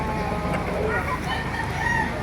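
Chickens cluck and a rooster crows nearby at a chicken market in Baliuag, Bulacan, the birds calling over one another in a short burst.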